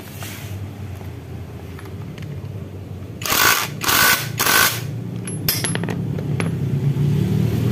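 A nut is wrenched tight onto a manual clutch part for a Yamaha Force 1 motorcycle, giving several loud, close metallic clanks and ratcheting bursts over a steady background hum.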